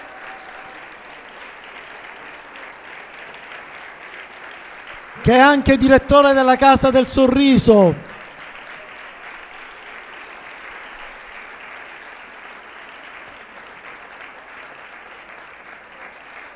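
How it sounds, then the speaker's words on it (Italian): Audience applause welcoming a speaker at an Italian event, a steady hall-wide clapping that runs throughout. Someone speaks briefly over it partway through, and the clapping continues after he stops. "prego, accogliamolo con un grande applauso."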